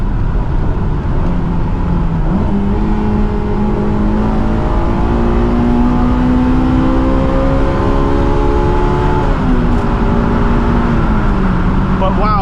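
Honda S2000 VTEC engine revving toward 9,000 RPM, heard from inside the car as a loud, continuous drone whose pitch climbs steadily, dips briefly at a shift, then climbs again.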